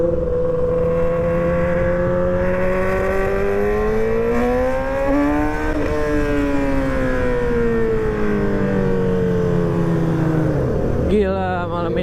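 Yamaha R6 sport motorcycle engine revving loudly and close, rising in pitch over several seconds, peaking, then dropping back before a sharp final blip, with a steady strong harmonic drone throughout.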